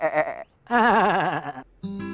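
Goats bleat in Lewisburg, Tennessee: two or three close, wavering calls with pauses between them, loud and with no talk over them.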